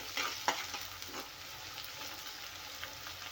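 Golden onion with coarsely crushed ginger-garlic paste fries in a pan, a quiet steady sizzle broken by a sharp scrape of the spoon early on and lighter stirring clicks after.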